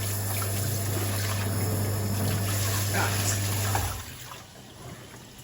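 Water spraying from a hydrobath shower head to rinse mud off a dirty dog, a steady hissing gush that cuts off near the end, with someone speaking briefly.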